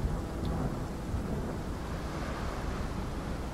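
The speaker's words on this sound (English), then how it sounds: "I hear a storm now." A steady, dense rumble of a thunderstorm in the video game RiME, with rain-like hiss and low roaring, continuous and fairly close throughout, with no voices.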